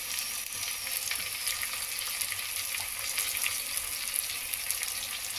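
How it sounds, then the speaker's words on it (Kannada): Spices, turmeric, chopped mint and coriander leaves fry in a pan for plain khichdi, giving a steady, bright, crackling sizzle close by that stays even throughout, with no talking. "ಫ್ರೈ ಆಗಲಿ."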